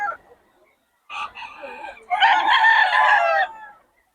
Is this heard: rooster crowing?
yes